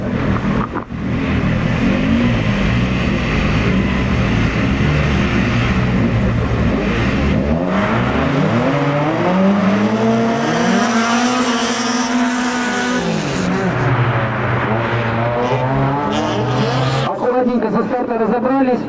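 Race cars at a winter auto show race in Slobodskoy roar and accelerate, engines revving hard and rising in pitch as they pass close by and loud, with an announcer talking throughout.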